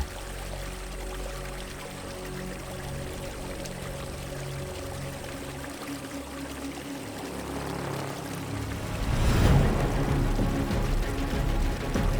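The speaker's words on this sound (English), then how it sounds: "The river is freezing, steep, and turbulent." Continuous rushing water of a freezing, steep, turbulent river churns at a steady level, swelling into a louder, splashing surge near the end.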